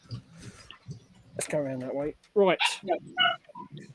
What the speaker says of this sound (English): Oh, sorry about the dogs.